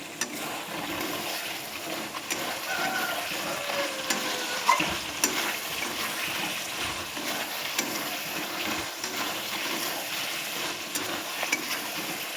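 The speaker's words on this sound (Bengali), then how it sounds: "আমি আরও কিছুক্ষণ কষিয়ে নেব।" Spices and potol sizzle in oil as they are sautéed for a vegetarian doi potol, a steady frying hiss broken by occasional scrapes and taps of a stirring spoon, close by and with no talk.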